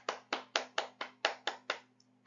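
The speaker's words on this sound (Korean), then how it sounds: "여러분, 약속을 성취하시는 하나님께 영광의 박수와 신뢰의 박수를 드립시다." Slow rhythmic clapping in church, about eight evenly spaced claps over two seconds, fairly close and clear, with a faint steady hum underneath and no voices.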